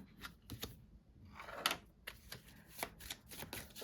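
Quiet, close card shuffling in short riffling bursts, with a few light taps and flicks between them.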